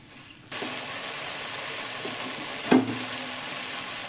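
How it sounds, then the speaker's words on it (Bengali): Shredded cabbage hits a hot pan for stir-frying, and a loud, steady sizzle breaks out at once and holds, with a single sharp knock of a utensil partway through. "বাঁধাকপিটা দিয়ে একটু কষে নেব।"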